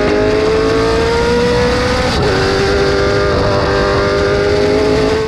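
A Formula One car's engine screams at high revs on the track at Mondello Park, loud and continuous with a brief pitch drop as it shifts gears.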